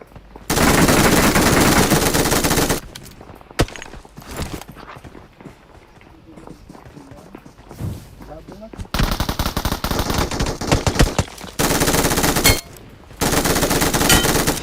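BGMI (PUBG) gunfire comes in long sustained automatic bursts, loud and dense, broken by quieter stretches of footsteps and game sounds, with a player's voice talking at times.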